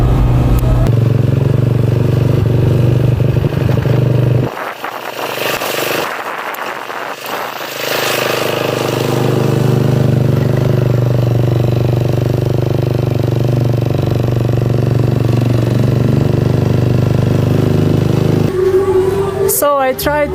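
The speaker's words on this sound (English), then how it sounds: "So on this road mostly scooters, but also there are some cars." Scooters and cars travel the road to Bromo in Indonesia, giving a steady, close engine drone that eases for a few seconds before a louder vehicle passes near the end.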